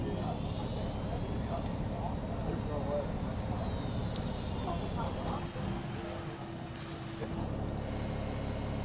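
The engine of a Boeing 757-300 in the X-Plane 11 simulator spools up as a steady jet roar with a rising high whine, continuous throughout, with someone talking over it.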